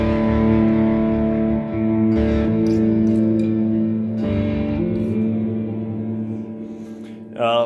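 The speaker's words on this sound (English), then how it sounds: "And I have reverb." Electric guitar played through a VCV Rack software pedalboard with a filter, delay and reverb, sustained chords ringing with a wide reverberant wash, then a brief bright swell at the end.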